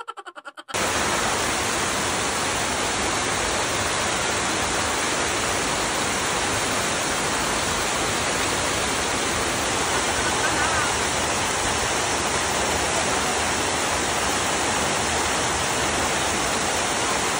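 A waterfall roars as a loud, steady broadband rush on a trekking route, continuous and close after a brief quiet start.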